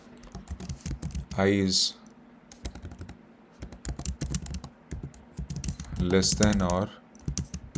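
Typing Python code on a computer keyboard, with rapid clustered key clicks running between and under a man's spoken explanation of the code.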